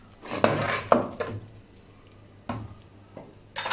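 A metal lid is lifted off a pot of cooked lentils after the steam is let out, with a couple of sharp clanks and scrapes, followed by a few softer knocks and a final clatter.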